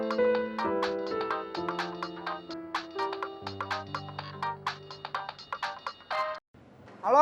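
A telephone ringtone plays a bright electronic melody of stepping, chiming notes, fairly loud and continuous, before cutting off briefly and a further sound begins.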